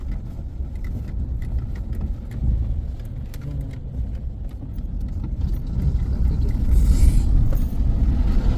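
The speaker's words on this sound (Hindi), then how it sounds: "ये देखो this is the first water crossing that we are going to cross" A Toyota Hilux fords a mountain water crossing on an off-road route from Spiti to Manali via Batal, with a steady low engine rumble and continuous splashing and rushing water throughout, swelling louder near the end.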